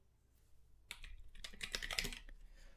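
Typing on a ZSA Voyager computer keyboard, a quiet close flurry of rapid key clicks that starts soft and grows busier and louder before trailing off.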